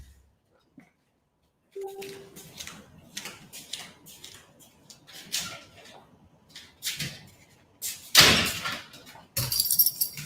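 Keys jangle and clink in short, bright metallic bursts with scattered taps and rustles between them, close and fairly loud, briefly louder near the end.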